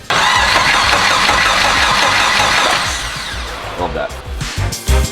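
A turbocharged Honda K-series engine swapped into a Scion FR-S cranks on the starter and fires up, roaring loudly before settling into a rougher, fluctuating idle with a few revs, close by.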